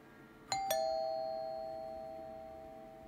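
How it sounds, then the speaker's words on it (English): Doorbell in the horror video game Fears to Fathom: Home Alone rings twice in quick succession, a clear ding-dong whose bright tone lingers and slowly fades. "Can you stop ringing the bell?"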